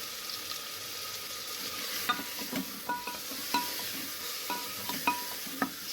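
Chicken fries in a pan under a steady sizzle while a utensil scrapes and knocks against the pan in irregular strokes during stirring, close and clear with no voices.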